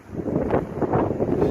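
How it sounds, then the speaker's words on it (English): Winter wind gusts buffet the microphone at a snowy campsite, producing a low, steady rumble with soft swells over a short stretch. "it's getting pretty windy out here"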